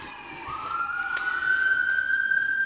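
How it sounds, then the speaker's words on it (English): A wailing emergency siren rises in pitch and then holds a steady sustained tone, fairly close and continuous through the whole stretch with no one talking. "And sirens."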